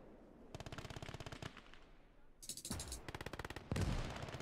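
Rapid bursts of automatic gunfire and single heavy shots from the World War II Eastern Front game Call to Arms - Gates of Hell, with a Wehrmacht Sig gun firing amid several loud volleys, some close and sharp, others rolling and distant.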